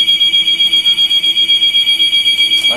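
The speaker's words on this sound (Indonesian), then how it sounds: "yang ada alarm nyala, mati, harus disentuh" A loud, continuous motorcycle anti-theft alarm with a rapid pulsing high-pitched tone, close by and sounding alone.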